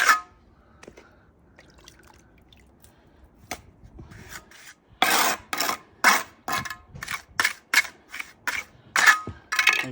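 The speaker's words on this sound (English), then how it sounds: "Then force it in with a trowel." Trowel scraping and forcing mortar into the joints of sunken paving slabs outdoors, a series of sharp rasping strokes that repeat rhythmically in the second half, close and fairly loud, with no talk.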